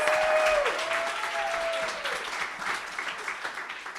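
Audience applause at an Ignite Talks event in Chicago, a sustained wash of clapping that gradually thins, with a brief feedback-like tone ringing over it near the start.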